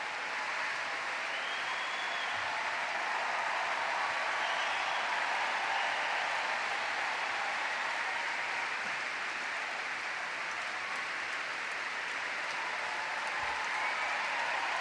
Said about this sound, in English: taking applause from the crowd